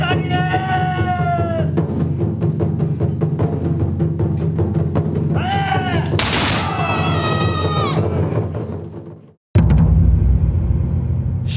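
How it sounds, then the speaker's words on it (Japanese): A matchlock gun volley rings out at an Edo-period procession reenactment, with a sharp loud blast around the middle amid crowd noise and music, followed by a brief silence and resumed ambience. "高らかな銃声とともに隊列行進が幕を開けるのだ"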